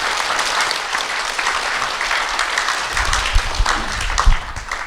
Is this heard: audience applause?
yes